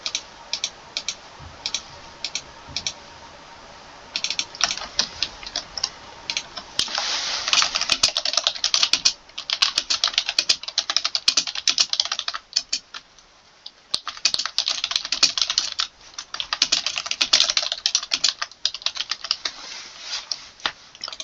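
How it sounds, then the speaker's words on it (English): Rapid typing on a computer keyboard during a live NQ futures premarket trading session, with steady clicking bursts and short pauses, close and fairly loud, with no talking. "what's the point of typing in the journal and everything?"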